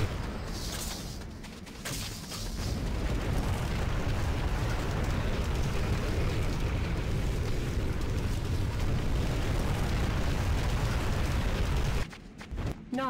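Building explosions in the video game Renegade, a dense, continuous roar of blasts and rumbling debris filling the scene for about twelve seconds, loud and sustained, then briefly cutting out near the end.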